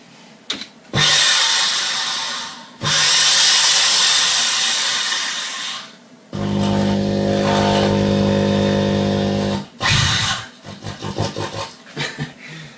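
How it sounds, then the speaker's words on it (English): Several loud bursts of a power drill whirring, each lasting a few seconds, alternating with harsher grinding and rattling in between. "This was a drill."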